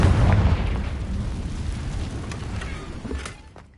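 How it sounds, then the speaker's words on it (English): Confringo fire spell cast in Hogwarts Legacy, bursting as a loud, booming explosion that rolls off and fades over a few seconds, with small crackling pops near the end. "Confringo."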